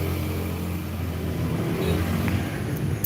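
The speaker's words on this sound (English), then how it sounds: "The motorcycles are too loud here." A steady engine roar with low rumble from motorcycles running loudly close by, continuous throughout.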